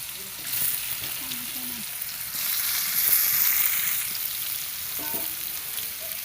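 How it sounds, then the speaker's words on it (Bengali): Radish and potato pieces frying together in light oil in a pan, a loud continuous sizzle with occasional stirring clatter, swelling slightly midway and then settling. "ভাজি করতে দিচ্ছি মূলা এবং আলু দুটোই আমরা একত্রিত করে দিচ্ছি।"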